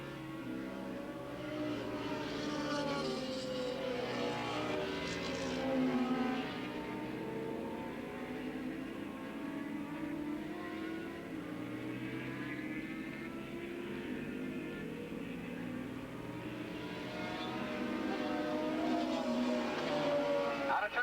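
Formula 1 class race motorcycles circle Willow Springs International Raceway in a 1987 AFM road race, a steady engine drone that rises and falls as they pass, heard under commentary.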